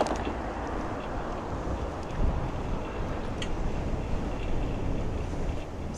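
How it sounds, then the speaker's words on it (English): Strong wind buffets while cycling along a canal-side trail near The Hague, a steady low rumbling gust noise across the microphone, fairly quiet and continuous, with no speech. "It's very windy."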